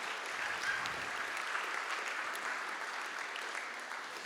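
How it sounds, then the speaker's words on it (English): An event audience gives David Turner a round of applause, a steady, even wash of many hands clapping heard at a distance and fairly faint, continuing throughout. "Let's give David Turner a big round of applause"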